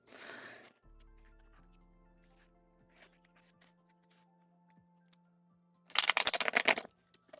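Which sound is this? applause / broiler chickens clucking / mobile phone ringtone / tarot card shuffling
tarot card shuffling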